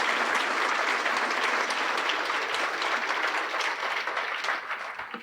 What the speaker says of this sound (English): That's a giant round of applause for Greg